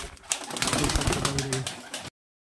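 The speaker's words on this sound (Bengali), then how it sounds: "অসাধারণ খুব সুন্দর বিগ সাইজের পায়রা" A pair of large Kaldom pigeons cooing close by in a short burst of soft, throaty, rolling calls, with faint background noise, ending abruptly after about two seconds.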